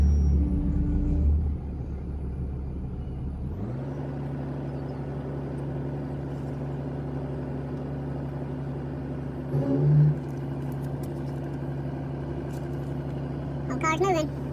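A 1968 Pontiac GTO with a four-speed, an old car being driven and dragged out of the woods, gives a steady low engine rumble and drone, with a couple of brief louder surges.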